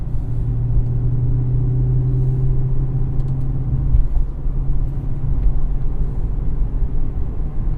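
A 2017 Chevrolet SS in performance mode with traction aids off launches hard for a 0-60 mph run, its engine a loud, deep rumble heard from inside, with a low droning tone shifting partway through.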